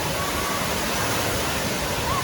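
At an aquatic playground, a large water bucket dumps its load in a steady, loud roaring wash of falling water that holds evenly throughout, close and dense like a waterfall.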